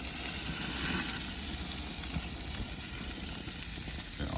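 Meat sears over a hot fire on an Old Country gravity smoker, giving a steady, close, broadband sizzle and hiss that holds at an even level throughout.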